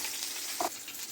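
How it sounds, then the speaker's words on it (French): Eggplants frying in hot oil for ratatouille give a steady, soft sizzle, with a brief clink near the middle. "je vais récupérer l'huile pour y mettre mes aubergines"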